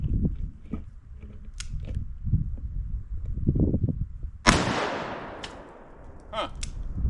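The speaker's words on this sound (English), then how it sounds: "going to shoot full power Underwood 240 grain jacketed hollow points through this." A revolver fires a single full-power Underwood 240 grain jacketed hollow point round, a sharp loud blast partway through with a ringing decay, preceded by quiet speech and handling noises.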